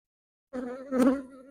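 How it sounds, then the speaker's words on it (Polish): Honeybees buzzing around a crowded hive frame during an apiary inspection, a close, droning hum that starts abruptly after brief silence and swells briefly as a bee passes near. "To jest cała ramka pszczoły."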